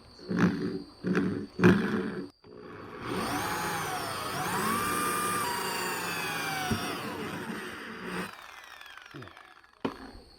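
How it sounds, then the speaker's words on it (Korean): A drill boring a 15 mm hole through the middle of a plastic hand-sprayer part, a few short knocks and then a loud sustained whining grind for about six seconds, close and alone. "15mm 홀수로 가운데 부분을 뚫어줍니다"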